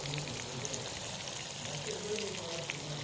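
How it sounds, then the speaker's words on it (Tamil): Spice paste sautéing in oil in a pan for Nellore karam, a steady close sizzle and crackle running throughout with a voice talking over it. "அந்த பச்சை ஸ்மெல் போகிற வரையும் நல்லா எண்ணெயிலே வதக்கணும்."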